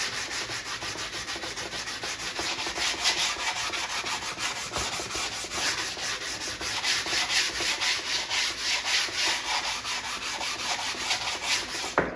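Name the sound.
hand sanding arcade control panel laminate with a sanding block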